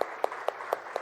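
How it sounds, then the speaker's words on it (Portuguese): Church congregation clapping in a slow, evenly spaced rhythm, about five distinct claps in a second, fairly close and moderately loud with no voices. "Vamos dar uma salva de palmas?"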